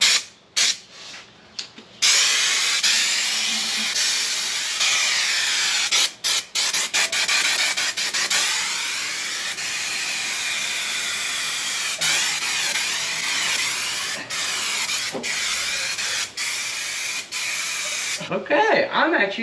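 A two-part spray foam can sprays onto rusted bodywork of a car, giving a loud, continuous hiss that runs for about sixteen seconds with brief breaks before cutting off.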